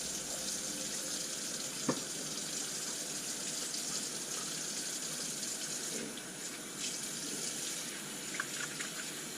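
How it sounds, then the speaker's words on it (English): A kitchen tap runs steadily into a sink while hands are washed after cutting jalapenos, a continuous close rush of water with faint splashes and small knocks. "Wash your hands after cutting up jalapenos."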